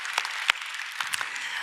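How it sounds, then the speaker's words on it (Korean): Church congregation at a Korean Sunday worship service clapping together, a brief burst of dense, close applause with a few sharper individual claps, no voices over it. "우리에게 은혜 주시는 좋으신 하나님께 박수로 감사합니다."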